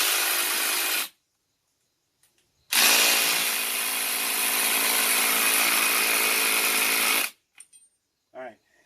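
A fully charged Ryobi cordless drill drives a stake while mounting a portable garage shelter. It whines loud and close in two bursts: a short one of about a second, then a sustained run of over four seconds with a slight pitch change, followed by faint knocks.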